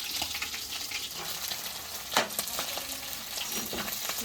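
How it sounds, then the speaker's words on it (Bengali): Hilsa fish head frying in oil in a pan, with a steady close sizzle throughout and occasional stirring clatters, louder around the middle. "ইলিশ মাথাটা ভেজে নিচ্ছি"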